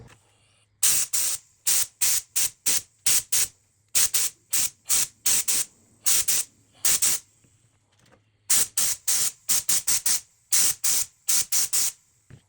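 Spray paint hisses onto a BMW E39 door handle for the final coat in rapid short bursts, loud and close, in two long runs separated by a brief pause.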